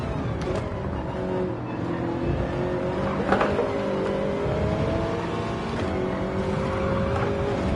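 A race car in a racing video game brakes and accelerates, its engine droning and shifting pitch with a faint tire squeal, steady and prominent throughout.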